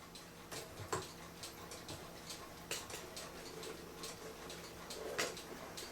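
A French-made mantel clock topped with a man and his horse, its tinny or pot-metal case giving a steady, light tick-tock that sounds alone, close up and fairly faint.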